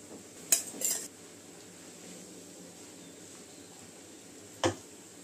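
A metal utensil scrapes and clinks in a pan as rice is stirred for veg schezwan rice, with a few sharp knocks near the start and another near the end over a quiet background.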